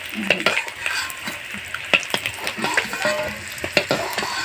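An egg frying in oil in a pan for a dhaba-style egg curry, with a steady sizzle and repeated close spatula scrapes and clinks throughout, no talk.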